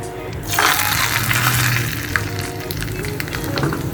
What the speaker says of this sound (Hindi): तेल गरम हो चुका है हमारा, तो इसमें मैं कड़ी पत्ता और ज़ीरे का बघार करूँगी।